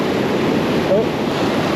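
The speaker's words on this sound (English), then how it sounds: "These waves are going to be a bit of a problem." Sea waves breaking at Rackwick on the Isle of Hoy, Orkney, a loud continuous rush of surf with wind buffeting the microphone at high water.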